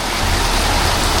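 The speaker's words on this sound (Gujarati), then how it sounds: "9 વાગ્યા છે ને આવો વરસાદ આવે છે" Heavy monsoon rain pours down in Surat at night, a dense, steady roar of water hitting surfaces, loud and close throughout with no break.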